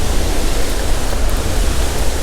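Athirappilly waterfall in Kerala with a heavy monsoon flow roars as a loud, steady wash of falling water, continuous and close with no voices.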